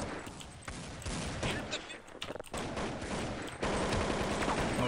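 Gunfire in a Half-Life mod game crackles in bursts of rapid shots, close and loud, with gaps between volleys and a voice speaking over the action.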